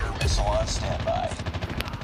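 Sniper rifle shots in the mobile shooter game COD Mobile crack out amid game effects and a busy battlefield mix, a few loud sharp reports over a dense background.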